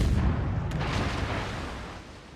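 Naval gunfire in World of Warships from the battleship Iron Duke, a single deep rumbling boom that rolls out and slowly decays over about two seconds.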